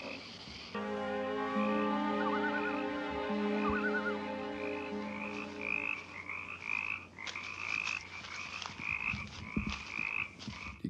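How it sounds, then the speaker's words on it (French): Frogs croak in a night scene from a Friday the 13th film, a dense chorus of trilling, pulsing calls that starts abruptly and continues steadily under a low background drone, with no talking. "Les grenouilles sont festives."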